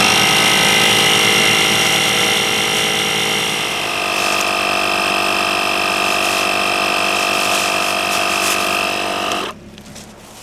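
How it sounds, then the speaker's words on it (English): An Atsanc portable tire inflator pumps up a 15-inch car tire with a loud, steady mechanical buzzing drone. A car engine idles nearby, and the inflator cuts off abruptly near the end. "We'll turn it on and let's see how long it takes."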